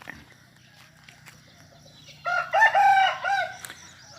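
Chickens at the edge of a farm field in the early morning give a short, loud burst of crowing and clucking after a quiet start. The calls are close and last about a second and a half.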